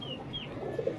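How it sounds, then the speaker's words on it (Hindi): Purebred pigeons coo close by in soft, low, rolling calls, with a couple of thin higher chirps over a faint background murmur in a short burst. "दोस्तों ये महरों वाले कबूतर हैं जो प्योरिटी में हैं"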